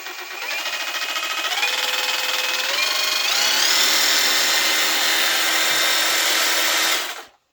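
A cordless Grand angle grinder whines at maximum speed, its steady high-pitched motor tone stepping up in pitch during the first seconds, then holding loud and constant until it cuts off abruptly near the end.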